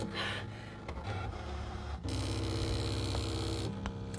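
A ScanNCut DX cutting machine with a vinyl auto blade cuts vinyl, giving a steady close mechanical whir and hum with shifting motor tones and small clicks throughout, with no talking.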